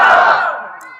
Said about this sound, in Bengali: একটা তাকবীর দেন, লিল্লাহি তাকবীর